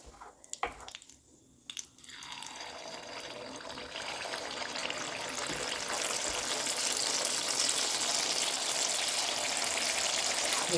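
Unniyappam batter made with hot oil and ghee, a couple of soft clinks and pours, then a rising, steady loud sizzle and crackle of frying that fills the rest of the time.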